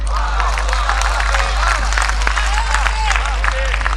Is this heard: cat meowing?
no